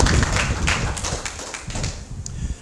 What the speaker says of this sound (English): Let's give a round of applause for that outstanding career so far.